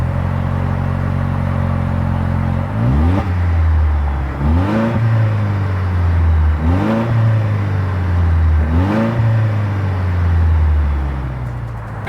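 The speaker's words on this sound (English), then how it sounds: "As always, here is that exhaust clip." Exhaust of a 2026 Toyota Land Cruiser revving at a standstill: a steady idle, then four sharp throttle blips that each rise and fall back to idle, loud and close with no voices.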